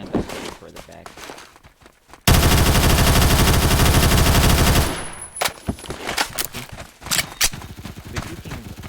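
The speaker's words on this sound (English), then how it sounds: "Yeah, that's not a lot of recoil." Automatic fire from an X95 SMG in the video game Phantom Forces: one loud, sustained burst of about two and a half seconds, with quieter background sounds before and after it.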